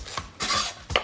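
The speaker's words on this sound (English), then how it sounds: "Chilies, we're going to use a mixture of red and green. Take off the tops" A kitchen knife trims the tops off red and green chilies on a cutting board, giving a short scrape followed by a longer slicing rasp and a final sharp cut, fairly close and with no talking.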